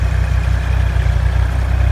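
Steady, loud low-pitched chugging of a 36 hp Kubota farm tractor engine running on a corn field while fertilizing, even and close with no voices.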